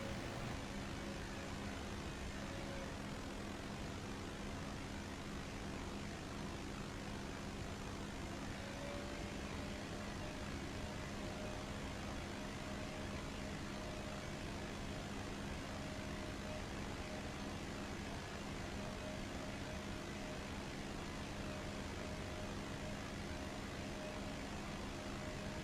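An airplane flies in the video game MindsEye with a steady, unbroken engine drone that holds at an even, moderate level throughout with no pauses.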